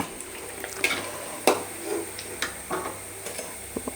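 Dal vada (parippu vada) patties frying in hot oil, a soft sizzle broken by several distinct clicks and taps of utensils against the pan over a low hum.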